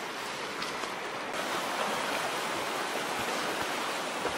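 River water rushing steadily in a backcountry crossing at Duck Mountain, a continuous broadband wash with no gaps, close and fairly loud, with no voices.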